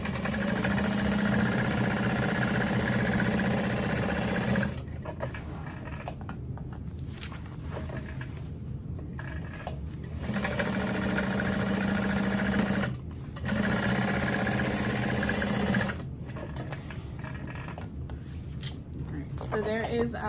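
A sewing machine stitching a backpack, its motor whirring in loud steady runs that stop and restart several times, with a softer mechanical hum in the pauses.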